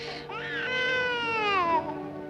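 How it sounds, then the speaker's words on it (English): A baby wails in one long, loud cry that rises and then falls away, with no talking over it. "Well, the baby's crying"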